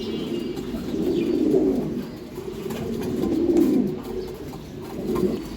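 Racing pigeons coo close by in soft, low, throaty rolls, three or four rounded swells repeating at a steady, unhurried pace with faint chirps in the background.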